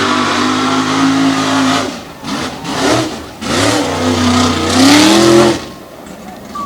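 An unlimited class race truck roars and revs at high power, the engine note rising and falling through gear changes with a brief dip in the middle, loud and close, with a commentator talking over it.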